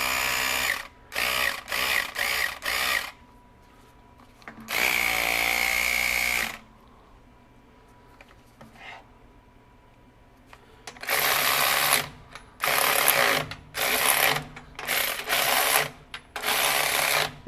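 An EastVolt 12V cordless 3/8-inch ratchet running fasteners, with loud whirring motor bursts of a second or two in clusters, the longest pulling under strain, separated by quiet pauses.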